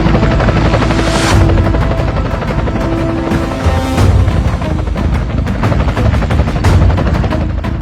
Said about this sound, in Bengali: এলাকায় হেলিকপ্টার কে নিয়ে আসলো?